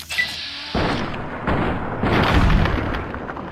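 Heavy booming shots from the Maria gun in modded Fallout New Vegas on PC, three or four loud blasts spaced about a second apart, close and alone.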